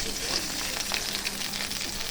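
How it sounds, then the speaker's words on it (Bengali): Pui leaf paturi frying in mustard oil, a steady close hiss of sizzling with faint crackles throughout. "একে একে সবগুলা দিয়ে অল্প অল্প করে ভেজে নেব।"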